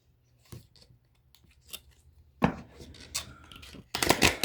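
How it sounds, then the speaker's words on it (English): Heart-shaped oracle cards are shuffled up close: light scattered flicks at first, then denser papery riffles and a loud burst of rapid card snaps at the end, with no voices. "I'm going to shuffle these"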